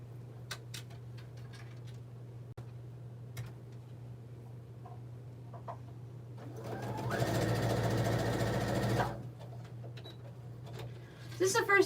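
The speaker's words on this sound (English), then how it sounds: "And then give it a nice little stitch across." Sewing machine stitching a seam across a quilted cell phone pouch, a brief close, steady mechanical run of about two seconds amid quiet room sounds and soft clicks.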